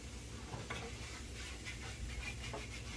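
Flour being stirred into hot grease in a pan to make a roux, a faint, soft sizzle with light scraping of the spoon through the mixture, continuous and low.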